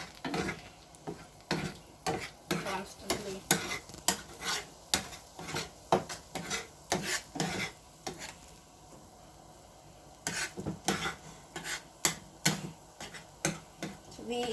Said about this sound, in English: So you just stir